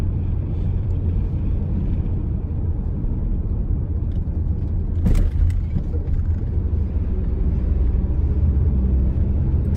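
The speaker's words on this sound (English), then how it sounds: "So yes, traffic is not too bad for us." Road traffic on suburban streets, a steady low engine rumble of cars passing without a break, with one brief brighter swell near the middle as a vehicle goes by closer.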